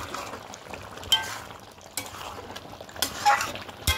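Kadai chicken with garam masala is stirred in a kadai, giving a low simmering sizzle punctuated by irregular clinks and scrapes of a spoon against the metal pan.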